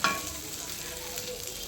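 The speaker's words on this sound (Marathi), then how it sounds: "लास्ट राहिले आता हे धीमे आचेवर तळते" Fish frying in oil over a low flame, giving a steady close sizzle with a brief stirring clatter at the start and no talk.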